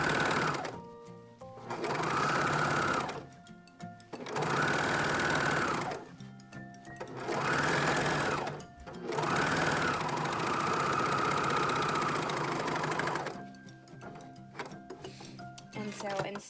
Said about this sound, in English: So now this is how you would cover stitch typically.